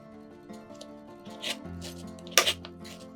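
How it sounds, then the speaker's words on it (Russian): Shortbread cookies being cut to size for a no-bake layered cake, giving a few soft scraping, crunchy cuts close by, with a sharper crisp snap near the end over faint background hum. "В местах, где печенье целым не получается положить, обрезаем его по нужному размеру."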